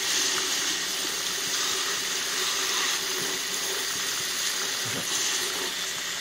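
A homemade Tesla water turbine built from MDF, CDs and a kids' bike axle runs on a water stream, giving a steady, close, continuous rush and gush of water with no pauses.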